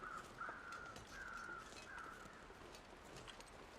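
Crows cawing in the survival game The Long Dark, several harsh calls repeating at an uneven pace over a steady wind-like background, moderately distant and fairly faint.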